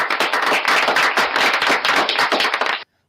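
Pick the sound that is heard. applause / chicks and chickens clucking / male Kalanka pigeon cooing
applause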